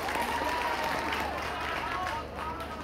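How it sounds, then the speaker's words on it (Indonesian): Applause from an audience at a school graduation and arts showcase greets a solo singing champion, a soft, continuous wash of clapping with a low hum underneath, fairly distant, lasting under three seconds. "Tepuk tangannya mana nggih?"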